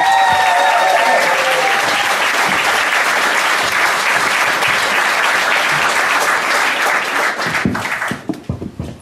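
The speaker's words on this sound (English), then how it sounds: "Please, your applause for Cathy Macharis!" Loud, dense applause from a comedy club audience welcoming a performer on stage, sustained and close for about eight seconds before breaking into a few final scattered claps.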